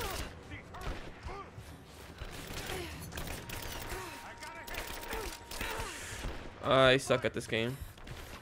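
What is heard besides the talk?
enemy gunfire in the video game Rise of the Tomb Raider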